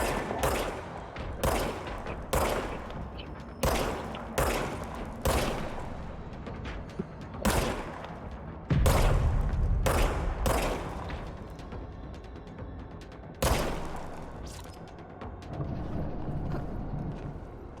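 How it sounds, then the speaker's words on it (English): Video game gunfire, a series of loud, sharp shots in uneven bursts, some spaced and some rapid, with a heavier blast midway and lingering echoes between. "now I have a gun"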